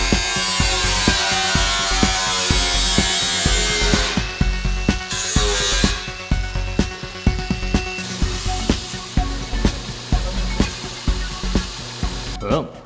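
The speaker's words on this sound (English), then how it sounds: "Just gonna cut a little square out of it." A power tool cuts a small square of steel from an old Audi 90CS Quattro fender. It gives a loud, continuous, harsh grinding whine with a steady stream of sharp rhythmic ticks that runs almost the whole time.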